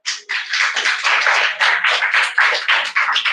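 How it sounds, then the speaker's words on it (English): Applause from an audience at a school English-speaking semi-final, a dense run of claps filling the room steadily for a few seconds, loud and close with no talking over it. "give a big round of applause for her"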